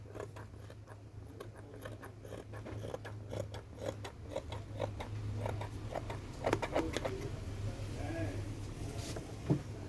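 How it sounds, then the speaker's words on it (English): Sharp scissors snipping through a sketched paper sewing pattern for a pencil skirt, a quick rhythmic run of crisp cuts, fairly faint over a low hum, with a voice speaking nearby. "I'm cutting out my pattern that was sketched."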